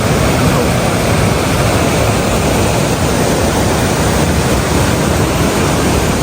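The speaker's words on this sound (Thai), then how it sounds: "น้ำไหลแรงมากครับ" Powerful torrent of water pouring down Kong Kaew waterfall in Khao Yai during rain, a loud, steady, close broadband roar that never lets up.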